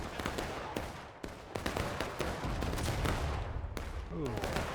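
Musket volleys crack across a battlefield in the Smoke and Steel game, dense overlapping reports from many rifles firing independently, a ragged run of sharp shots with no pause.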